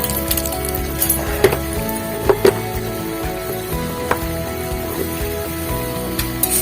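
Urad dal and chana dal sizzle in hot oil for a tempering, a steady close frying hiss broken by a few light clinks of a spoon against the pan.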